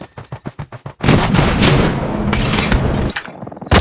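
Call of Duty Mobile gunfire: a quick burst of rapid evenly spaced shots, then a long loud roaring barrage of blasts and impacts that ends with a couple of sharp final cracks.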